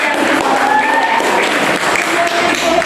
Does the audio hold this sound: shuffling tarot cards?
no